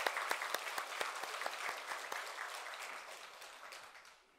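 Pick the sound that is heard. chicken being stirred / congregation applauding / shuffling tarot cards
congregation applauding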